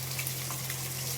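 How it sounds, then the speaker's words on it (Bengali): Rain falls steadily outdoors, a soft even hiss of drops with a low constant hum beneath and no speech. "বৃষ্টি হচ্ছে।"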